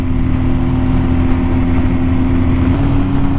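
Motorcycles in a group ride lineup idle and run nearby as a loud, steady engine drone with a deep low hum and no break.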